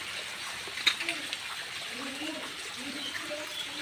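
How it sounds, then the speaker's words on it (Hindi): Heavy monsoon rain pours with a steady, close hiss while someone talks over it. "और यहाँ ज़ोर से बारिश हो रहा है"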